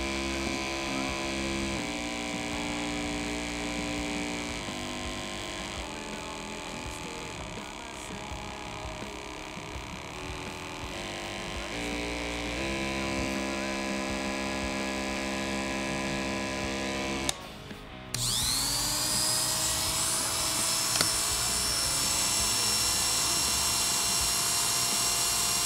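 Two corded hair clippers, an Oster Classic 76 and an Andis Supra ZBR, each running on its own in turn: a steady, loud electric motor hum with a buzzing drone that holds constant, then shifts to a brighter, higher-pitched whine after a short break.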